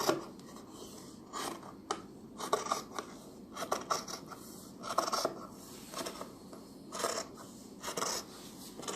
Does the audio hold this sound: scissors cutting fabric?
yes